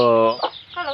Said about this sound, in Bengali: ওইটা হলো একটা ডাউকের বাচ্চা